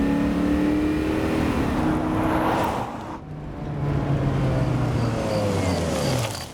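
A car driving steadily, its engine and road noise forming a continuous broad rumble that dips briefly midway before rising again, heard close and alone without talk.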